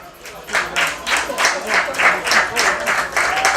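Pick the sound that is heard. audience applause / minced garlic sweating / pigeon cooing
audience applause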